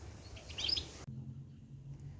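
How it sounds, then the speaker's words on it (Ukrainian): A few quick, faint spring bird chirps twitter briefly, then give way to a low, steady hum. "а ті птахи, що зимували, весело щебечуть"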